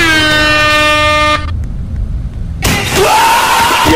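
A loud, sustained air horn blast in a Roblox game holds steady for about a second and a half, followed by a brief gap and then a burst of noisy in-game sound.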